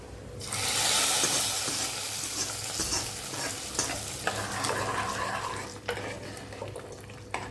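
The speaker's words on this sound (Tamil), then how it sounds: "தாளிச்சது எடுத்து நம்ம இந்த பருப்பு தண்ணியில் ஊற்றிடலாம்" Hot tempering hits dal water with a sudden loud sizzle that keeps crackling and bubbling, with occasional clinks of a spoon stirring the pot of sambar.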